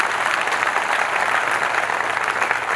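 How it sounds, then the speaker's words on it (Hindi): Dense, steady clapping from an audience at a Hindi comedy poetry show, a continuous wash of applause with no break. "इस पे ताली बजानी चाहिए।"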